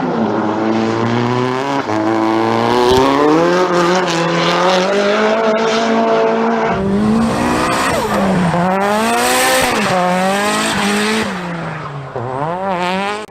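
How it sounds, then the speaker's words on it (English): A Nissan S15 Silvia drifts, its engine rising and falling in pitch through repeated revs while tires squeal loudly throughout, the noise close and sustained for the whole stretch. "one of the most popular cars for drifting is this Nissan"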